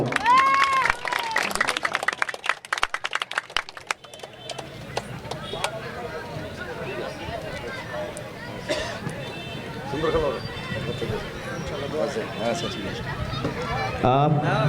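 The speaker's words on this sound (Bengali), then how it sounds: "একটা জোরে করতালি নাসিমের জন্য।" Applause and clapping from a crowd at a village school-field football quarter-final in Bangladesh, greeting the man of the match during the award handover; sharp claps open the clip, then steady crowd noise with voices continues throughout.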